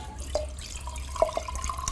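Water draining out of a biodiesel tank into a barrel or container, with soft trickling and a few distinct drips over a low steady hum, no talking.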